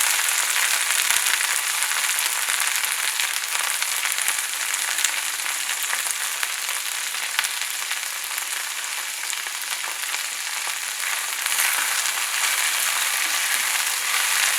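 Food sautéing in a pan gives a bright, dense, continuous sizzle and crackle up close, steady for the whole stretch with no talk.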